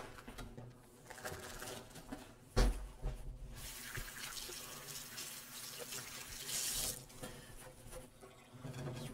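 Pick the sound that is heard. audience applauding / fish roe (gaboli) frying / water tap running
water tap running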